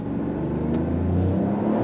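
A small two-door car accelerates, its mid-pitched engine holding a steady, loud hum and whir with a gently rising tone, heard from close by and with no talking.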